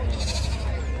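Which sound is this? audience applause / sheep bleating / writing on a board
sheep bleating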